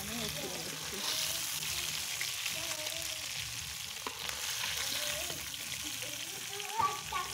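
Chicken sizzles and crackles in a hot frying pan, a soft, steady spitting hiss with faint clinks, while voices talk quietly in a home kitchen.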